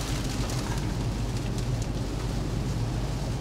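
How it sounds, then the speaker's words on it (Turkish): Heavy rain heard from inside a car while driving in England, a dense, steady hiss and drumming with low road rumble underneath, constant and close for the whole stretch. "Evet, yağmur"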